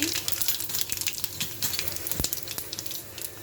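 Mustard seeds and cumin fry in hot oil for a dal with greens, giving a faint, steady crackling sizzle with small pops and a few clinks, heard up close.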